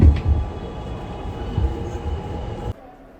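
A New York City subway train rumbles steadily and close, with a low mechanical roar and faint squeal. The sound cuts off sharply near the end.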